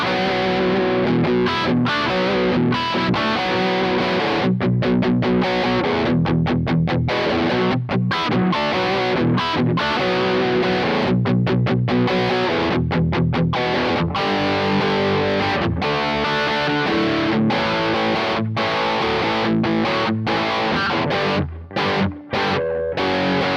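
A heavily distorted electric guitar plays the main riff of a song, chugging rhythmically with brief stops and restarts, loud and continuous with no voices.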